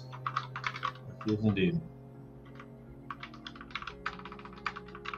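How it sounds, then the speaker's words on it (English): Fast, aggressive typing on a computer keyboard during a heads-up poker match, a steady clatter of keystrokes close by with people talking briefly over it. "Aggressive typing"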